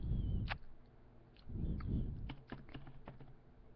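Keys clatter on a computer keyboard in a short run of close, crisp typing, a burst of taps early on, then a quicker irregular series of clicks over a low room rumble, with no voices.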